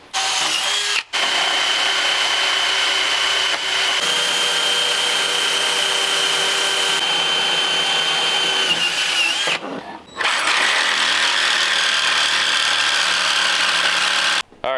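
A loud power tool grinds and cuts steadily through a Chevrolet C10 pickup truck's metal frame for most of the clip, with a brief pause near the start and another stop toward the end.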